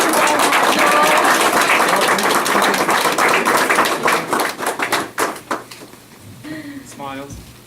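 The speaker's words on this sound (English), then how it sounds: "How about a round of applause?" Applause from an audience at a county board of education academic recognition meeting, loud and dense at first, then thinning into scattered claps before a voice speaks at the end.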